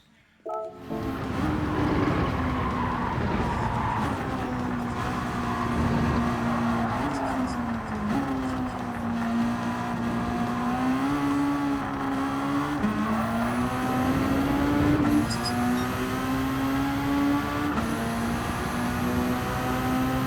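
A 1997 Toyota MR2 GT-S racing on the Nürburgring in Gran Turismo 7, its engine note loud and close, climbing and dropping through gear changes for the whole stretch, with tire squeal here and there.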